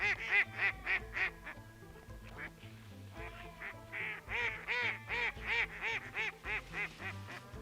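A wild female duck quacks in a rapid rhythmic series of nasal calls, fairly near, with a few longer honking tones mixed in, outdoors at a hunting spot.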